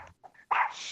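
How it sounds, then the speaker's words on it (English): A yappy little dog at the pound gives a few sharp, close barks in quick, uneven bursts, loud against otherwise quiet surroundings. "Yappy little dog."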